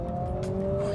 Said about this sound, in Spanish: Es impresionante lo de este 4 cilindros, de locos.